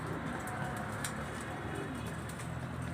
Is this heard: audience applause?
no